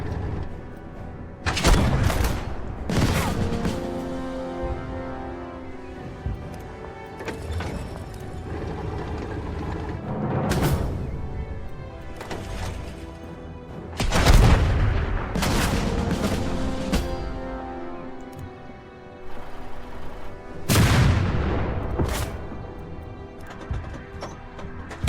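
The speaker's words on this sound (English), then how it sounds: "Stop shooting at me!" Tank guns firing in the video game Total Tank Generals: several loud booming shots spaced irregularly over a rumbling mechanical background, each blast sharp and heavy with a short decaying tail.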